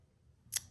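Scissors make a single sharp snip while trimming the corners of a craft bow, a quick, close cut against a quiet room.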